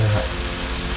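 Onions frying in a pan while cooking toward translucent, a dense, steady close sizzle with a low background hum, continuous and without talking.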